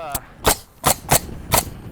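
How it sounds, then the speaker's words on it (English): A nail gun fires five sharp, snappy shots in quick, uneven succession, close by and loud. "It's no surprise the sound of a nail gun gets Daniel Prack of ARS Roofing excited."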